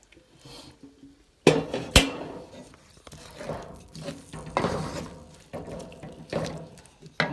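Water splashes and pours into a cooking pot for pumpkin brown stewed fish, with a sharp clank at the start and then uneven, fairly close bursts of pouring.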